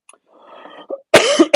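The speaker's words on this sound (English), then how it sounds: "I just can't shake this cough at the moment" A man with a lingering cough after a recent cold gives a faint throat rumble, then a couple of loud, rasping coughs close to the microphone.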